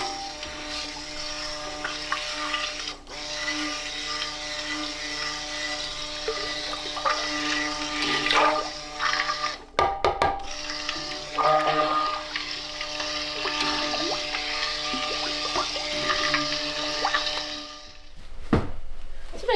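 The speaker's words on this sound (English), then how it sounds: "So we're going to go ahead and blend this in." Blender mixing a strawberries and champagne soap batter, a steady whirring hum with intermittent bursts and pauses throughout, close and moderately loud.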